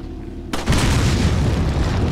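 A dynamite blast in Resident Evil 4 bursts in suddenly after a quiet moment and rolls on as a loud, sustained, rumbling roar.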